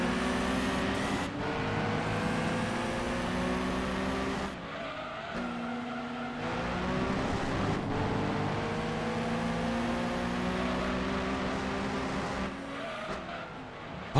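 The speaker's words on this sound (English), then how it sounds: "What is that engine noise even?" Engine of the Speed 12 race car in Gran Turismo 2 during a special event, a loud, steady high-revving drone that rises and falls through gear changes, with tire squeal running throughout.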